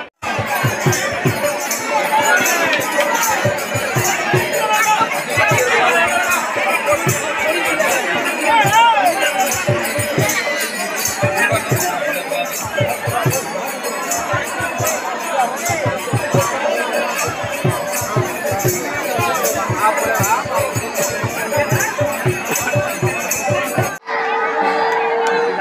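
Dense, loud crowd noise with shouting voices and babble fills the scene at a Ratha Yatra chariot festival in Karnibeda, continuous throughout with a brief change near the end.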